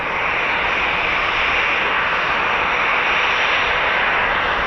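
A Eurofighter Typhoon FGR4 jet at RAF Lossiemouth makes a loud, continuous broadband roar of engine noise, powerful and sustained from start to finish, with no speech.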